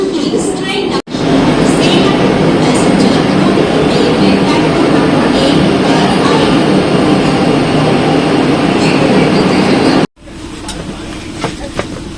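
A Vande Bharat express train running at speed: a loud, steady rumble and rush of noise that fills the clip, briefly cut off near the start and end.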